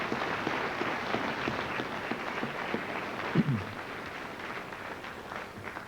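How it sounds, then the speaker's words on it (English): An audience at a high school Veterans Day celebration applauds steadily, with a dense, moderately faint patter of clapping that runs throughout and one brief louder knock midway. "So please give a round of applause to all those who helped."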